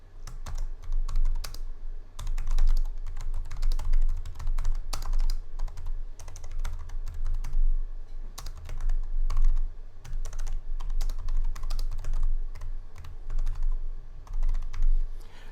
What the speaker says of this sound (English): Now, it looks like I'm typing these in on the fly